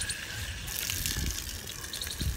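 Water runs from a tap, a close steady gush and splash throughout, with a few low knocks and bumps underneath.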